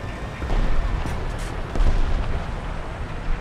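Tank guns and artillery boom through a World War II tank battle video game, with a dense, continuous rumble of blasts and heavier thuds around one and two seconds, and no talk.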